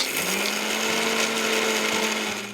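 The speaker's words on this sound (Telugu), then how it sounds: "పల్లీలు, చింతకూర, ఎండుమిరపకాయలు, వెల్లుల్లిపాయలు ఇవి ఫస్ట్ అయితే మిక్సీ చేసుకుందాం అండి" A mixer grinder grinds peanuts, gongura leaves, dried red chilies and garlic with a loud, steady motor whine that runs close and unbroken, then eases off slightly at the very end.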